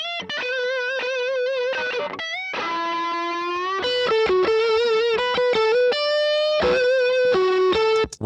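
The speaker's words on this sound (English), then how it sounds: "So this is the 2-tube screamers into the Fender." Electric guitar played through two Tube Screamer overdrive pedals into a Fender amp for a classic blues tone, with sustained blues notes and bends, loud and continuous with no talking.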